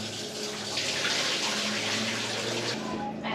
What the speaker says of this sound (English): rinsing it well with water.